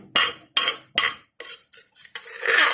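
A spoon scoops pounded ginger lumps from a mortar into a dish in a home kitchen, giving about seven short, close scraping clinks in an uneven rhythm with brief silences between them.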